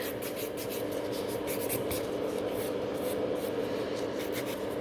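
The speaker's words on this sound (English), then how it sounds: "file only the places which really needs to be filed" A nail file rubs back and forth over fiber gel on a fingernail in quick, even strokes, a close, steady scratchy rasp that continues without pause.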